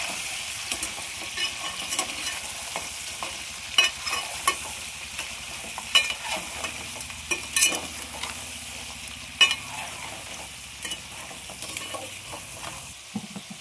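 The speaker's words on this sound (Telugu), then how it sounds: "సలసలా కాగే నూనెలో సలసలా వేసే ముక్కలు చూసారా ఎలా వేగుతుందో. ఒకసారి గంటతో తిప్పుకుందాము." Crab pieces fry in hot oil with a steady, dense sizzle while a ladle stirs them, scraping and clinking against the pan in irregular bursts, close and fairly loud throughout with no talking.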